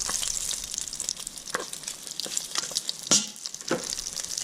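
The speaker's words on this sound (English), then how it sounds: "Turn over and fry a bit on the other side there." Seal flipper and shoulder pieces sizzling in a frying pan, a steady close hiss with scattered pops and crackles and a few scraping stirs and turns throughout.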